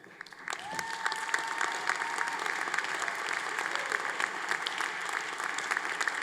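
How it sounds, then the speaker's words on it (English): A large audience at a 2022 university commencement ceremony bursts into sustained applause, a dense, even roar of clapping that rises quickly and holds steady from a distance. "Let us share another round of applause for this great accomplishment."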